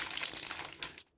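Packaging around a handbag is cut open at an unboxing, a close crinkling, crunching rustle of plastic and paper that stops abruptly after about a second.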